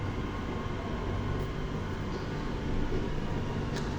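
A Doha metro train pulls into the station in a steady low rumble and rush that swells slightly toward the end, with a brief high squeal near the close.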